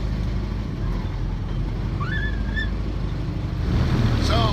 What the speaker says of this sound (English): over the hum of the engines, you can see this is life on the river